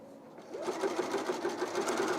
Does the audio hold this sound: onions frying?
no